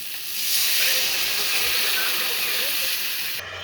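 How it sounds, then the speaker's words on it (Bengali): Water hits a hot frying pan and sets off a loud, broad hiss of steam that swells quickly and holds steady for a few seconds before easing off. "চলো এখন একটু জল দিয়ে দিচ্ছি।"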